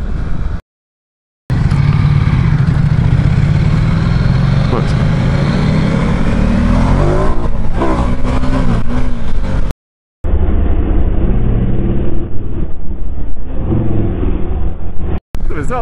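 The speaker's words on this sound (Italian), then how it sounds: "Il bicilindrico!" A Ducati Diavel 1260 twin-cylinder motorcycle runs loud and close, its engine droning and rising as it accelerates, with brief dropouts and a muffled stretch later as the roar carries on.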